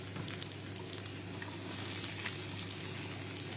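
Fennel seeds sauté lightly in a pan with oil, a close, even crackling sizzle with faint popping, steady and continuous, no voices.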